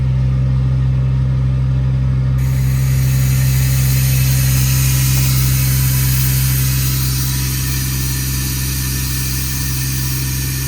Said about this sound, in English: Turn the compressor off by pressing that button again